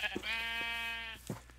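A sheep in a modded Minecraft game lets out one sustained, clear harmonic bleat lasting about a second, with short game sound effects just before and after.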